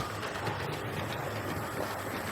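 A steady, continuous mechanical rumble with a low engine drone and faint rail noise, constant in level throughout, from a Hornby model train locomotive running smoothly at high speed.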